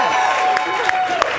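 A comedy club crowd at Showdown Saturday Night gives a brief burst of clapping and whoops, loud and close but short, with a voice talking over it.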